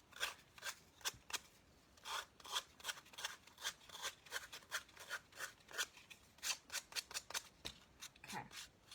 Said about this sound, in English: so we've sanded off the edges